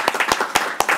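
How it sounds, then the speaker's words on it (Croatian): Brief applause in a city council chamber at the end of a fifteen-hour marathon session, a handful of close, distinct claps in an uneven rhythm over one short burst. "Aplauz za kraj maratonskog vijećanja koje je trajalo 15 sati"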